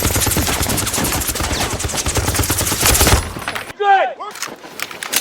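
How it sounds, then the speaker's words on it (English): Loud rapid bursts of automatic gunfire in a snowy movie shootout, dense continuous volleys for about three seconds before cutting to brief sharper sounds and a short whooshing tone. "The guards ambush the tribal officers, and a brutal shootout erupts in the snow."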